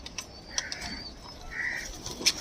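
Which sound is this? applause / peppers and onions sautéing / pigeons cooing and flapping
pigeons cooing and flapping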